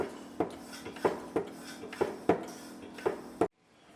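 A hand oil pump being worked to fill a Toyota 80/100 Series gearbox, giving seven or eight evenly spaced metallic clanks close by, each stroke followed by a brief squeak before the sound cuts off.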